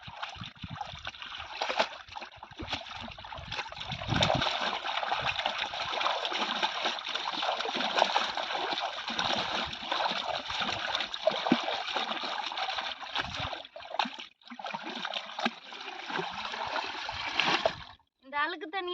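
A blanket is rinsed by hand in a tub of water, Orissa style, with continuous splashing, sloshing and dripping at close range for the whole stretch, briefly easing near the end.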